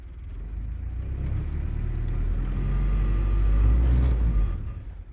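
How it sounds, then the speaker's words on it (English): A WW2 jeep engine idles steadily up close, a low, slightly lumpy rumble that swells a little in the middle and then eases off. "Does seem like a good idle actually. Similar to how it normally idles, maybe a little less lumpy."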